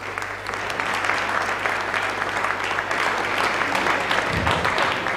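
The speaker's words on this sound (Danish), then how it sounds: "Kan man godt klappe af." Sustained applause from an audience at a 1989 local election meeting in a hall, steady dense clapping throughout with a low hum underneath and no talking.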